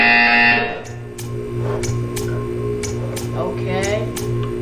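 A Portal 2 video game buzzer drones steadily under a faint hum, with several short sharp ticks or clicks repeating at roughly regular intervals.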